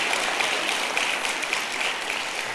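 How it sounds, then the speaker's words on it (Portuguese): A church congregation applauds during a sermon, a dense, steady wash of many hands clapping at once that stays even and continuous throughout. "Quem crê nisso, aplauda o Senhor Jesus e diz: obrigado, Jesus."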